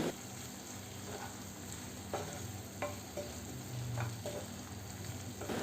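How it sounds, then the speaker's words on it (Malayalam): Beef roast and coriander leaves are stirred together in a hot pan: a quiet, steady sizzle with a scattering of soft scraping strokes from the spoon. "ഇനി ഇതെല്ലാം കൂടി നല്ലതുപോലെ ഒന്ന് മിക്സ് ചെയ്ത് കൊടുക്കാം"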